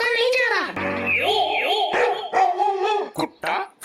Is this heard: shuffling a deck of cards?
no